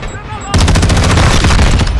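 Rapid automatic gunfire from Call of Duty: Modern Warfare II gameplay bursts in suddenly and roars on as a loud, dense, continuous stream of shots with booming low end.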